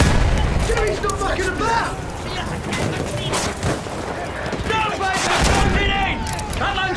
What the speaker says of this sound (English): Field guns, flatten it!